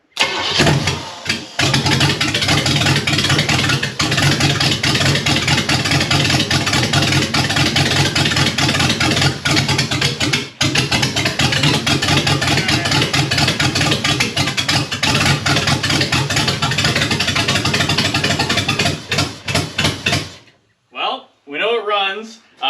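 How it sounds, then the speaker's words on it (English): A big block Chevy jet boat engine cranks, catches and runs loud and close with a rough, steady roar before cutting off; people talk briefly at the end. "you guys can hear that this thing runs"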